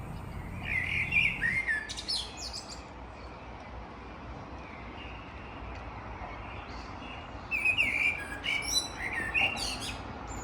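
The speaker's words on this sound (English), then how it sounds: "just listen how beautiful is the bird song at 2 a.m." Bird calls and chirps ring out in short bursts at 2 a.m. on a summer night on an island in Stockholm, over a quiet, low background hush, with a calmer stretch between them.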